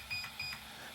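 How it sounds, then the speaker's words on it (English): Two short electronic beeps from a Kyosho RC car's brushless speed controller as it indicates its setting, clear and close with a brief gap between them. "it's going to beep the amount of times for whatever setting I'm in."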